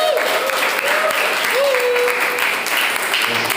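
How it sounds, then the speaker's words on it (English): Audience clapping at an event, steady and full throughout, with a voice speaking faintly over the applause. "And also the applause to all our amazing speakers."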